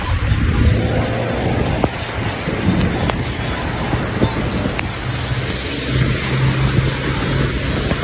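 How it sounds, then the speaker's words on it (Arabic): Heavy rain pours steadily during a storm in Saudi Arabia, a dense, loud hiss mixed with gusty wind and rumbling low noise, with occasional sharp ticks of drops striking nearby surfaces. "تشهد المملكة العربية السعودية سقوط الأمطار على عدد من المناطق في المملكة"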